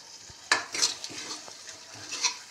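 Masala for a coconut-free prawn malai curry sautéing in a pan, with short bursts of sizzle and a few light scrapes and clinks as it is stirred, close and moderately loud.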